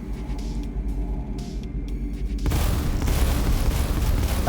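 T400 energy cannons exploding in the Space Engineers video game: a steady rumbling bed jumps abruptly into a louder, dense roar of broadband blast noise that holds to the end.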